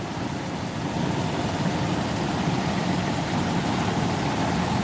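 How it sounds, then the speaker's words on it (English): A fire engine idles at a three-alarm fire scene in Aurora, its steady low diesel rumble close and constant with no breaks and no voices. "Aurora's fire engine, one of them."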